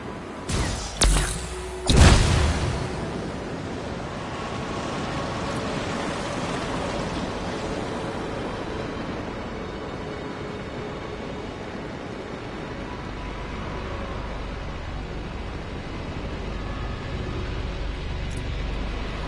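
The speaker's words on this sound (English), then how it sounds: "Look at the waterfalls, they're going backwards." Steady rushing water of waterfalls in the Anthem video game, a continuous broad hiss after a few brief louder bumps at the start.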